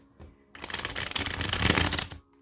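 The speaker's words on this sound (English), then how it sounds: "Let me shuffle really quick." Tarot cards riffle-shuffled by hand in one steady burst of rapid papery flutter lasting under two seconds, close and fairly loud, with no talking.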